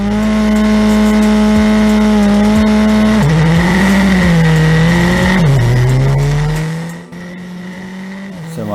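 F4 race cars launching at the start of a night street race in Chennai, loud high-revving engines climbing through gears with sharp shift drops, one car close and dominant before the noise suddenly falls away.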